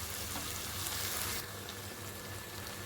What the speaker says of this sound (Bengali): ভাবে ফ্লেমটা কমাইয়া পাঁচ মিনিটের মতো ভাইছে নেব